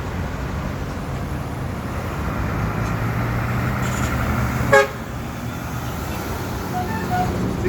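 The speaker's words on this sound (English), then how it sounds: "So that's how they've dealt with the morning rush hour traffic here in Georgetown on the East Bank." Morning rush-hour road traffic on a Houston East Bank public road rolls past as a steady roar, cut once by a short, sharp car horn honk midway through.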